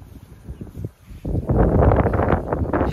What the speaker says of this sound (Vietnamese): gió to quá mọi người